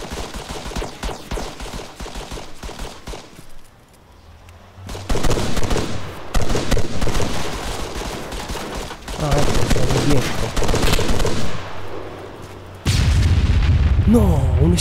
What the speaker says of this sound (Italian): No, un'esplosione.